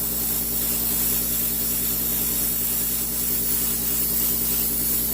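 An airbrush sprays paint onto a stainless steel tumbler with a steady, close, continuous hiss and no pauses.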